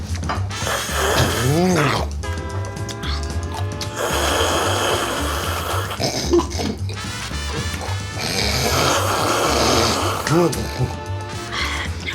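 People in a Ukrainian comedy series take part in a snoring contest, producing loud, exaggerated rhythmic snores and snorts with their voices. The snores are close and dominant, and strained breathing and grunts come between them.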